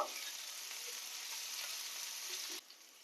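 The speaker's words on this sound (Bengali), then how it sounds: "টমেটোর কুচি দিয়ে ভালো করে একটু কষিয়ে নেব।" Chopped tomatoes sizzle and fry with ginger-garlic paste in a pan for a Bengali chanachur tarka, a steady close hiss with faint scrapes that cuts off sharply near the end, no talk.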